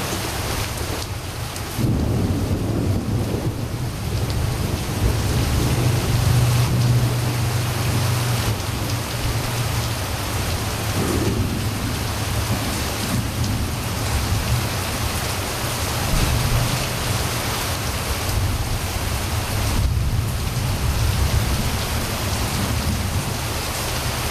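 Steady rain falls continuously around a campsite, with low thunder rolling and rumbling several times beneath the downpour; no voices, just the dense hiss of rainfall and deep booms.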